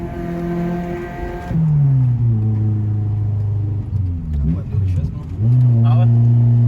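A VTEC car engine with launch control revs hard, its pitch climbing and falling in several loud surges, with brief voices underneath.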